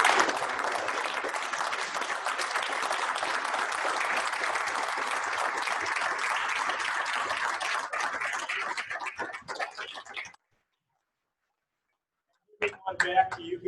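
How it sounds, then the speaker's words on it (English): Audience applause at a blood drive program gathering, a steady roar of clapping for about ten seconds that fades out, followed by silence and then a brief burst of room noise. "How about a round of applause?"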